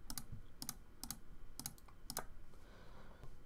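Five or six crisp clicks in small bursts, sharp and close, from a computer mouse selecting keyword search results, with a short pause near the end and no talking.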